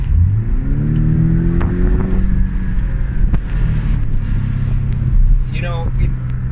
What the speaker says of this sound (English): You hear the rumble of the engine.